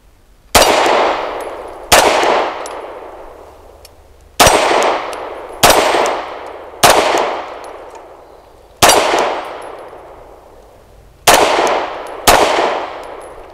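BUL Armory EDC pistol firing eight sharp shots at uneven intervals, each a loud crack followed by a ringing metallic decay, with no talking between them.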